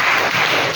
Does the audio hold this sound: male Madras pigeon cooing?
no